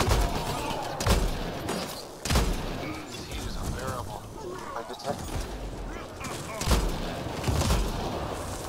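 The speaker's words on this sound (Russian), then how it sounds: "Давай выстрелим." Gunfire in the sci-fi shooter Mass Effect: Andromeda: several sharp, loud shots at irregular intervals stand out over a dense bed of game ambience, with character voices talking throughout.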